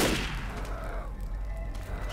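Gunshots at the Witch in Left 4 Dead pile into a dense, loud spray of noise at close range, roaring steadily with no clear gaps between shots.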